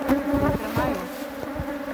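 Honey bees swarm around a syrup feeder at a beehive, producing a steady, close buzzing drone with overlapping wingbeat tones that rise and fall slightly, heard alone without talk.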